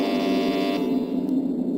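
An elevator in the video game Metal Gear Solid sounds a steady electronic buzzing beep, held for about a second and then fading lower, alone with no talk.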